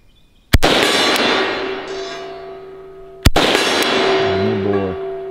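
An AK rifle fires two loud, sharp shots about three seconds apart, each followed by a ringing metallic decay, close to the listener outdoors.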